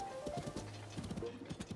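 Horse hooves galloping in Zelda: Tears of the Kingdom, a quick run of clip-clop beats under faint game ambience, close and steady with a brief snort.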